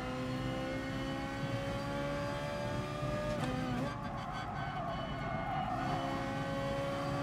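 Ferrari Group 4 race car in Gran Turismo Sport, its engine droning steadily with rising harmonic whine and a brief gear-change blip midway, loud and continuous throughout.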